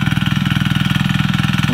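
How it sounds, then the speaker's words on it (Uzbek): A mini tractor working a plowed field being prepared for tomato planting: its engine chugs in a fast, even pulsing rhythm, loud and close, with no voices over it. "Endi mini traktorda molalash ishlari bo'lyapti"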